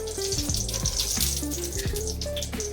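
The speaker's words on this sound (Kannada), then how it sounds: "ಸೊ ತವಾ ಬಿಸಿಯಾಗಿದೆ, ನಾವು ಆಯಿಲ್ ಹಾಕೊಂಡಿದ್ದೀವಿ" Sweet potato cutlet frying in oil on a hot tawa, giving a steady close crackling sizzle that runs without a break, with a faint tonal hum underneath.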